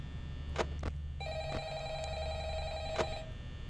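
A telephone rings inside the Five Nights at Freddy's horror game: a steady electronic ring tone starts partway through and holds for about two seconds over a low droning background, with a few faint clicks scattered around it.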